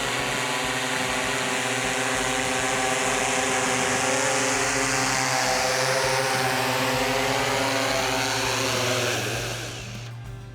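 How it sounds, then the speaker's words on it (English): A DJI-controlled agricultural drone descends to land, its rotors giving a loud, steady, close whine with strong harmonic tones that holds for about nine seconds, then starts to wind down near the end. "I'm keeping my eyes on the aircraft at all times, coming down, clearing the flight line."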